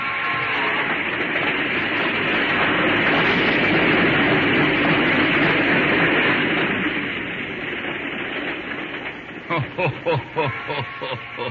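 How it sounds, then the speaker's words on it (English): A train approaching: a loud rumbling roar fills the air, easing slightly before a rhythmic clatter of wheels over rail joints takes over near the end. "that train is coming again"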